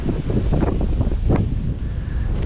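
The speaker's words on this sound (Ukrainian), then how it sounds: "Такий вітер в нас дує!" Strong wind buffets the microphone in steady, rumbling gusts at Harrison Lake, British Columbia, with a brief louder surge partway through and no voices.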